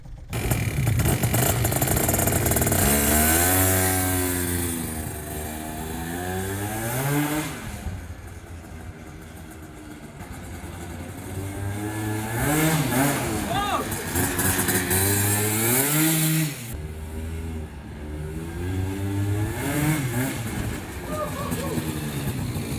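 A Yamaha BWS 50cc two-stroke scooter fitted with a Stage 6 MK2 70cc cylinder kit buzzes loudly as it rides, revving up and down through several rising and falling pitch sweeps, with a voice talking over it.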